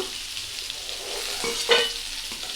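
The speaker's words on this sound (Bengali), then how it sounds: "তো এদিকে আমার তেল গরম হয়ে গিয়েছে, এখন পটলগুলো দিয়ে দেবো।" Pointed gourd pieces fry in hot mustard oil, giving a steady close sizzle with a brief louder crackle as they are stirred.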